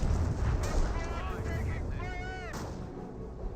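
A Nebelwerfer rocket barrage in Company of Heroes gives off rising, wailing screeches over a heavy rumbling din, with a voice talking through it.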